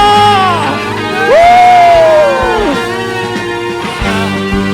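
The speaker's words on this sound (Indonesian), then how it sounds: "Yang percaya sorakan haleluya" A church congregation at a Sunday worship service in Bali, Indonesia, shouts and cheers together over loud, sustained worship music, the voices swelling midway and then fading back under the band.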